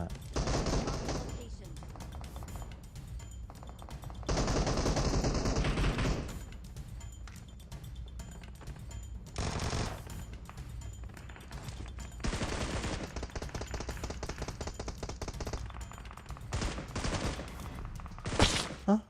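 Automatic rifle fire in PUBG Mobile, several loud bursts of rapid shots separated by quieter gaps, with someone talking between the volleys.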